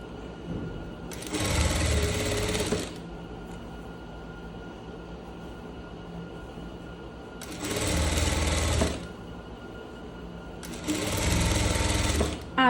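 Sewing machine stitching a seam on a striped shirt, running in three loud bursts of rapid whirring separated by quieter pauses with faint room noise.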